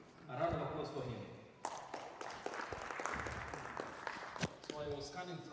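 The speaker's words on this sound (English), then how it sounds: "A round of applause for him." Conference audience applauding at a Pan African event, a burst of dense clapping lasting a few seconds, with a speaker's voice heard briefly before and after it.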